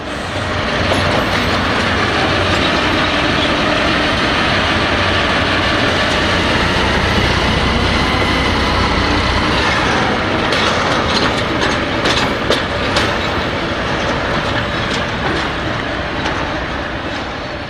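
A DB Schenker Class 08 diesel shunter, 08711, shunts cargo wagons at Didcot, a steady loud engine drone and rumbling rolling stock filling the whole stretch, with clanking wagon sounds rising toward the end.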